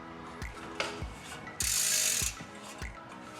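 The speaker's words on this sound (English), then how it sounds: "Use my vise to tighten this thing down." A bench vise is cranked tight on a Shimano SLX bicycle cassette part, a few close ratcheting clicks and clunks followed by a brief harsh metallic grinding burst, then more single clicks.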